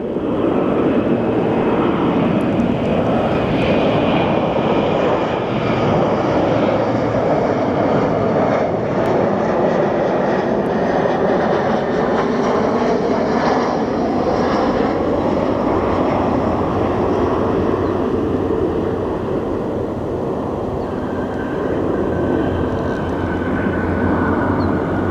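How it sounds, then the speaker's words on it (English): A United Airlines Embraer jet passes at Phoenix Sky Harbor airport, its engines a loud, steady roar that fills the whole stretch without any talking. "So here comes our United Airlines Embraer."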